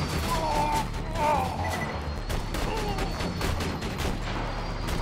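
Rapid automatic turret fire from Borderlands 2 game combat against flying buzzards, a dense continuous clatter of shots and impacts running steadily throughout at close range.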